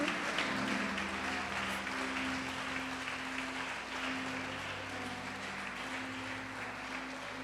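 A church congregation claps steadily and evenly throughout, a dense crowd applause with no speech over it.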